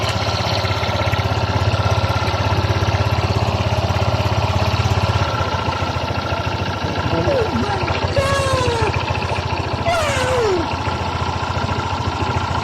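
A Honda Click 125 scooter engine, which stalls when hot, idles with a steady low rumble and rapid chugging throughout, joined by brief squeaky chirps later on.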